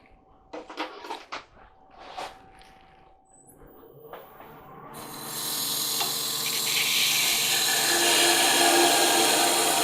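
A wood lathe spins up and a tool parts off a wooden long-stem goblet, building to a loud, sustained hissing cutting noise after a few scattered knocks and clicks at the start.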